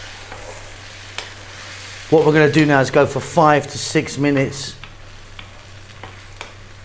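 Crushed canned plum tomato sauce fries in a pan and gets stirred, giving a steady low sizzle beneath a person speaking close by.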